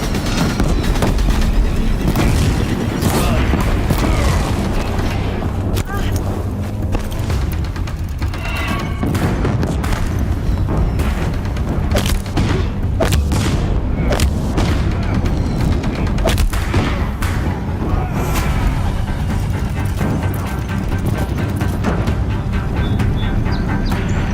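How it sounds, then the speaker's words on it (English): Deathbringer machines in Horizon Zero Dawn keep up a loud, continuous barrage of explosive booms and gunfire-like blasts across a battle, dense and unbroken with no clear gaps. "Deathbringers keep firing, this bridge will go!"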